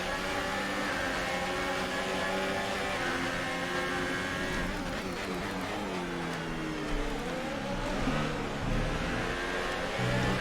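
Formula 1 car engine in F1 2018 racing game at the French Grand Prix, a high-pitched sustained engine whine shifting pitch as it accelerates and changes gear, with another car audible, loud and steady.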